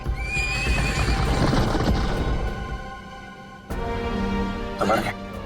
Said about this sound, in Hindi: महाराज, घोड़े तैयार हैं।